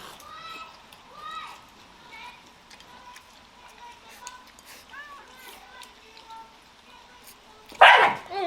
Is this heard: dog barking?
yes